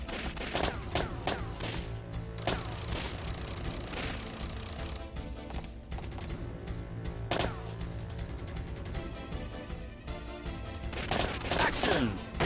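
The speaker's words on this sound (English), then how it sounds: "My men will gun him down." Dense gunfire from the Time Crisis arcade shooter on PS3, rapid shots and bursts layered over game music and explosions, with in-game voices shouting throughout.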